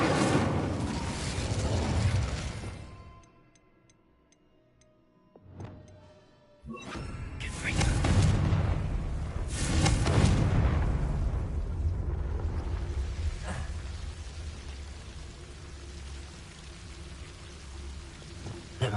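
Incendio fire spell cast in a wizard video game: a couple of loud, broad fiery bursts that roar and then fade slowly, after a quieter gap in the first half.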